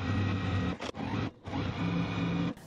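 A sewing machine runs in two steady bursts while stitching along the edges of a beginner quilt block, its motor hum and rapid needle rhythm loud and close, with a short pause between runs and no talking.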